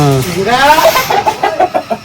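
Hens clucking in a room on a fighting-rooster breeding farm, a close drawn-out call followed by a rapid run of short, loud clucks.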